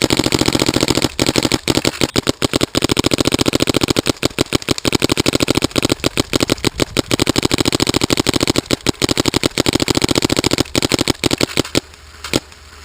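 A Planet Eclipse Etha 2 paintball marker firing in long rapid bursts, dense loud pops in quick succession with short pauses between strings, close by and continuing for over ten seconds.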